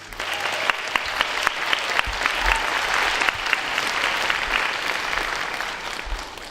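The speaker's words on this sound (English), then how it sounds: "Please give a round of applause to Lake Mary High School's principal, Dr. Mickey Prentice." Sustained applause from a school awards-night audience greeting the high school principal, dense and steady clapping filling the hall for several seconds with no talk over it.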